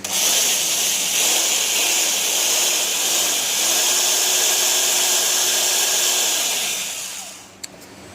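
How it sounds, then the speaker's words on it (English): A steady, loud mechanical whine of a power drill spinning the drive shaft of a Johnson 15 HP outboard motor continuously for several seconds, then winding down and stopping near the end. "then the drill hooked up to the drive shaft. So I'm going to give it a spin"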